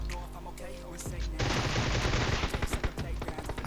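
Rapid bursts of Groza rifle fire in the mobile battle royale game PUBG Mobile crackle loudly in quick succession, with close sharp shots layered over game ambience.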